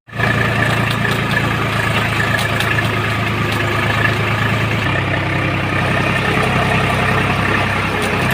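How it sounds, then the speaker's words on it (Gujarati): A tractor engine runs steadily while sowing sorghum in a village field, a loud continuous low drone with a slight drop in pitch partway through, with no talk over it. "આવી રીતે ટ્રેક્ટરે જ ઝાર વવાય છે"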